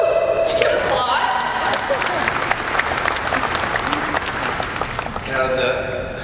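Crowd applause at the 2017 Bull Riding Hall of Fame ceremony, loud sustained clapping filling the room for several seconds, with some voices and a few cheers mixed in.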